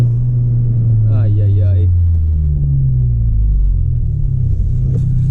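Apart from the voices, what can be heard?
Honda Civic Si turbo and exhaust echoing off town buildings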